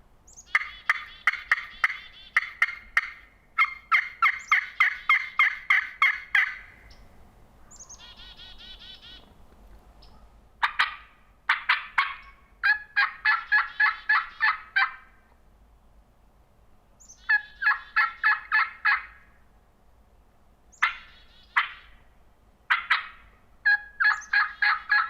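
Wild turkey gobbling from a distant ridge during a spring hunt on Iowa public land, repeated rattling gobbles in several bursts with short gaps, clear and fairly loud over quiet woods.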